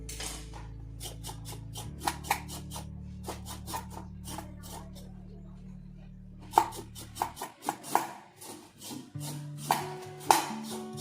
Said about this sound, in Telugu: క్యారెట్ కట్ చేసుకుందాం గైస్, వాష్ చేసుకొని కట్ చేసుకుందాం